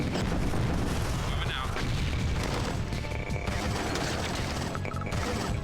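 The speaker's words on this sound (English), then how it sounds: "people would stop with their machine gun fire constantly" Sustained machine gun fire and blasts rattle through a battle in Command & Conquer: Tiberian Sun, a dense continuous clatter of shots with heavy crashing impacts, steady and loud throughout.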